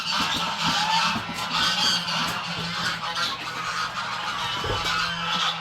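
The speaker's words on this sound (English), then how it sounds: "goose fight." Geese fight on a farm with cattle nearby, loud overlapping honks and squawks in a dense, continuous racket, close and without speech.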